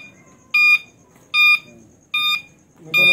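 An e-bike turn signal beeps in four evenly spaced, loud electronic tones, each about a quarter second long, with quiet background noise in between.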